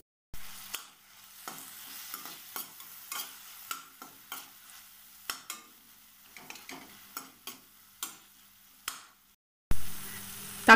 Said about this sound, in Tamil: தக்காளி எண்ணெயில் நல்லா வதங்கிருச்சு.